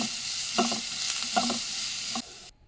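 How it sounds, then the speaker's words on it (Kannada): Chopped onion and garlic sizzle in a little oil in a pan, a close, steady hiss broken by a few spoon-stirring scrapes before it cuts off abruptly. "ಒಂದು ಸ್ವಲ್ಪ ಎಣ್ಣೆ ಹಾಕ್ಕೊಂಡು ಹೆಚ್ಚಿರೋ ಈರುಳ್ಳಿ, ಬೆಳ್ಳುಳ್ಳಿ ಹಾಕ್ಕೊಂಡು ಹುರ್ಕೊಳ್ಳೋಣ."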